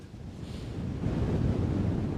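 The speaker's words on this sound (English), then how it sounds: "I don't know if you can hear the wind." Wind gusts across an open waterfront height on Governors Island in New York, a loud rushing roar buffeting the microphone and building in strength toward the end, with no voices.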